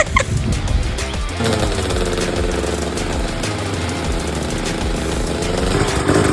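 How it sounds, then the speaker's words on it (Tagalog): Loud, continuous roar of several trail motorcycle engines revving and whining together at night in Tanay, steady and close throughout with no voices. "At wala kang ibang maririnig kundi iyakan ng mga motor."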